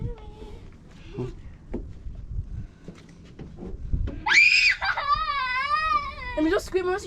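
A person lets out a loud, sustained, wavering high scream during a family hike, following quieter murmuring and rustling outdoors; voices are heard in the background.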